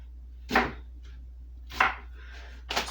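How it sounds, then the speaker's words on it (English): Three sharp, separate knife chops through a red onion on a cutting board, spaced about a second apart, close and crisp against quiet. "I'm just going to chunk this red onion"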